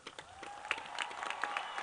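A graduation audience of parents and friends claps together, a soft, scattered patter of hands heard from some distance, with a few faint voices mixed in.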